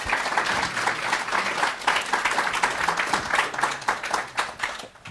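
At a spring academic conference, an audience of attendees gives a round of applause for the student and faculty presenters: dense, sustained clapping from many hands, loud and continuous for several seconds with no talking over it.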